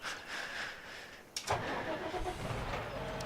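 A tractor engine starts up in Farming Simulator 17, a sudden cranking onset followed by a steady, fairly loud engine running that continues after the start, with no talk over it.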